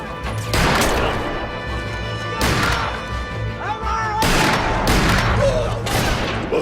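Dense gunfire from a film scene, heavy overlapping volleys of shots and crashes that run loud and continuous, with a brief voice and whistling ricochet-like tones in between.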